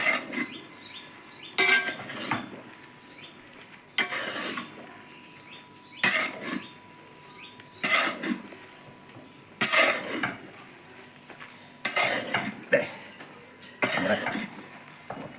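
A soft, steady sizzle of green chillies frying in a pan over low heat runs throughout, broken regularly by the scrape and clink of a utensil stirring.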